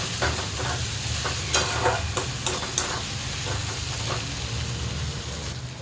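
Ingredients for a hyacinth bean and green chilli garlic dish are stirred and roasted in a pan, a steady close sizzle broken by several sharp scraping stirs, with no talking.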